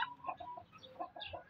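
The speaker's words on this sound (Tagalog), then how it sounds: "so tumitilaok na rin to" A four-month-old Shamo stag rooster gives short, clucking crow-like calls in a quick broken series, close and moderately loud with no talking.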